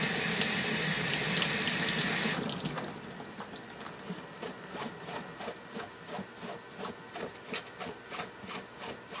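Hot water gushes loudly from a tap for about two seconds, then stops, and a steady, rhythmic rubbing of wet cloth follows, with dried latex paint being scrubbed from clothing.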